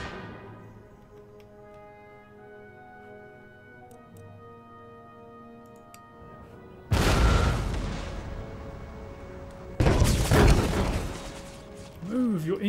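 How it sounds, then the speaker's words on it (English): Artillery cannons fire in an Empire: Total War battle, with two heavy, loud booming blasts at close range, each followed by a rumbling tail, after a quieter stretch of ticking and tonal in-game ambience. "I'm just going to arty the hell out of you again and again and again"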